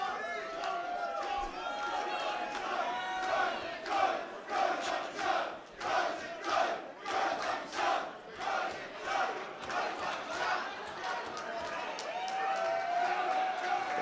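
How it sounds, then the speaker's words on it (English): A wrestling crowd at a DEFY event chants rhythmically to serenade wrestler Cody Chhun, with loud pulsing group voices in steady beats, then looser cheering and crowd noise toward the end. "Cody's enjoying this serenade from the Defiance here tonight"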